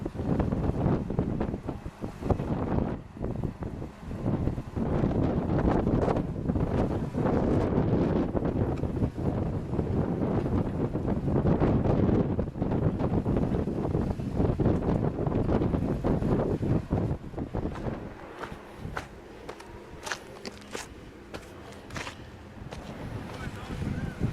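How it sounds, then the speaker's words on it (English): Strong gusting wind buffets the microphone on a Moab off-road rock climb at Hamburger Hill, a loud rough roar rising and falling throughout and easing somewhat near the end. "the wind was blowing dirt into my eyes and I couldn't see"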